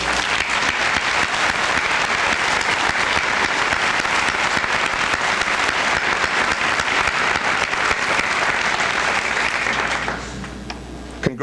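Applause for a student award winner at a high school senior assembly: a long, loud, even roar of many hands clapping that carries for about ten seconds, then drops away abruptly.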